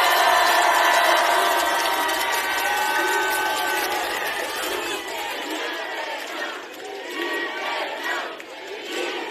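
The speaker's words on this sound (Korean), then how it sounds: "박수와 환호를 부탁드립니다." A large crowd at a Democratic Party election-eve rally in Yongsan roars with sustained cheering and shouting, loud and dense at first, then easing slightly while the noise continues.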